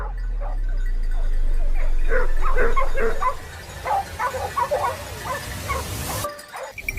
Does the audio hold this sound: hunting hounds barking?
yes